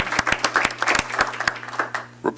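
Audience applause at a Torrance Unified School District board meeting, with a burst of brisk, uneven clapping from a crowd in a hall and a faint steady hum underneath.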